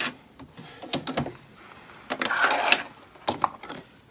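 Domestic sewing machine stitching in reverse back over the start of a seam on a small fabric cord keeper, heard as several short mechanical bursts with gaps between, close and moderately loud, ending in a longer run.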